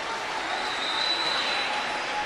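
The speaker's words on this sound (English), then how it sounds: "Whistles and screams from the crowd." A crowd at an Australian ninja competition course whistles and screams for a young woman athlete, a steady, fairly faint roar with a sustained whistle rising above the cheering and applause.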